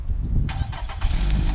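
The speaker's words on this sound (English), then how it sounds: "So it's got remote engine start." A 2017 Nissan Rogue SL engine starts by remote start, a short crank catching into a steady idle close by, with a low rumble throughout and no talking.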